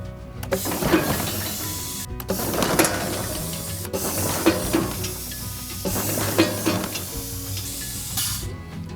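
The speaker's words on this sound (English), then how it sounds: "our entry gate to the open, pre-catch, catch and draft gates all center themselves" Pneumatic gates on a Clipex Sheep Handler Pro centering themselves as the valves and rams work, heard as repeated sharp air hisses and bursts with mechanical clunks through a steady background, close and fairly loud, with no talk.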